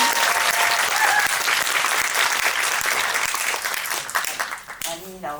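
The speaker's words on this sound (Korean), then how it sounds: "그거 원하시면 박수." An audience at a Korean film screening Q&A for the movie Virus breaks into loud, full applause. The sustained clapping fades near the end as a voice begins speaking.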